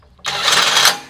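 A Tanzu TZ-IW 1000 cordless impact wrench running up loud and close in a single burst of about two thirds of a second, a steady high whine that starts sharply and then cuts off.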